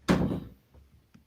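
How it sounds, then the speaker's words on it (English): An indoor door is pulled shut by the draft as the heating comes on, giving one loud, close thud that fades quickly, followed by a couple of faint knocks and creaks. "The ghost slammed the door."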